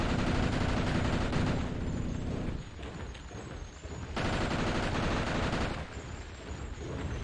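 Liberator rifle in the video game Hideous Destructor, firing dense, loud sustained bursts that fill the sound, easing briefly in the middle before another long automatic volley resumes.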